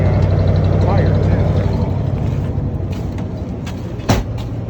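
A Chevy 454 V8 runs after a -35C cold start, a steady low rumble close by with a person talking over it and a sharp knock near the end.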